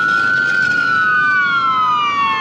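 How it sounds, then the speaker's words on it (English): A loud siren wails continuously, its pitch sliding slowly downward as the emergency vehicle passes close by. "let me wait for this siren to go by"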